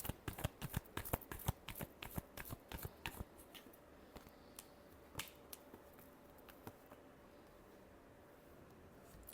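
Tarot cards are shuffled in a quick burst of crisp riffling snaps, dense at first and then thinning to scattered soft slaps, close and fairly quiet with no talking.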